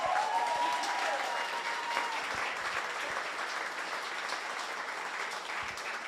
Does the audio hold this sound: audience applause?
yes